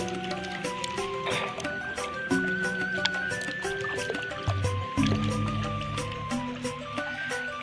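Stones are rinsed in river water at Kali Gesing, Kismantoro, with continuous splashing, trickling and sloshing, plus knocks of rocks clinking together, close and moderately loud throughout.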